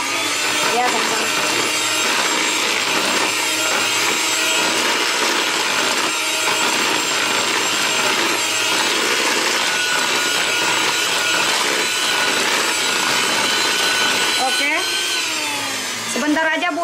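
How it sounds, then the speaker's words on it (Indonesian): An electric mixer beats egg yolks with sifted sugar for pastry dough, a continuous close whirring and scraping that runs steadily for the whole stretch, with a brief shift in pitch near the end. "Selanjutnya kita mixer ya."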